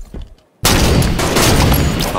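Gunfire in a first-person shooter video game: after a brief quiet moment, a loud, dense burst of shots erupts and continues without pause to the end.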